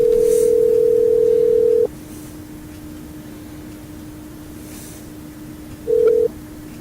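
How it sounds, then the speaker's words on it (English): A telephone call goes unanswered: a loud steady ring tone holds for about two seconds, falls silent over a faint hum, then returns briefly near the end. "I was going to drop a phone call to old Dan the Man"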